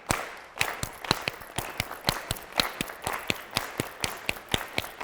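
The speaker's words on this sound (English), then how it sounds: "Now we're going to double clap." An audience claps together in a steady double-clap rhythm, sharp paired hand claps repeating evenly at moderate loudness in a room, with no talking over them.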